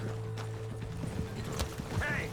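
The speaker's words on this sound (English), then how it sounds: "Thanks for the horse, John." Horse hooves clip-clop in the Red Dead Redemption 2 video game, a soft and steady run of footfalls set against a low game ambience, with speech coming in briefly.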